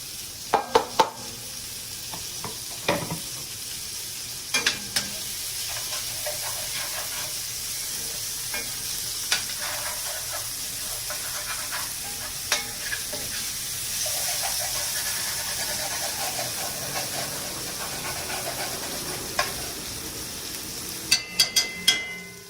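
Sliced peppers sizzling in hot olive oil in a pan for ratatouille, a steady frying hiss throughout with scattered clicks and spoon-on-pan clatter at the start and end.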